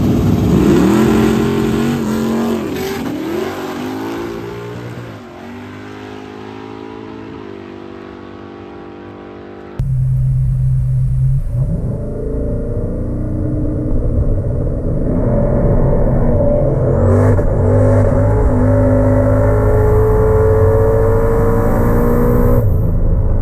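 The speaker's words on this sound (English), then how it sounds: "we're gonna run some more Outlaw Cars" Outlaw drag racing cars launch and accelerate hard down a drag strip, loud roaring engines rising in pitch through rapid gear changes, one pass fading and a second car's wail building, no voices.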